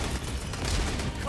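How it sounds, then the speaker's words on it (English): Dense, sustained gunfire and blasts from the Helldivers 2 video game roll on without pause, a steady low rumble of rapid shots throughout. "Oh, that's a lot of bullets."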